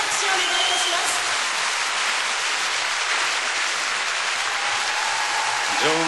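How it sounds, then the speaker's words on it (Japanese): Arena crowd gives a standing ovation after Shizuka Arakawa's figure skating performance at the 2009 Japan Open, a dense, continuous roar of clapping and cheering filling the venue steadily throughout. "場内スタンディングオベーション、進化し続ける荒川の素晴らしい演技をご覧いただきました。"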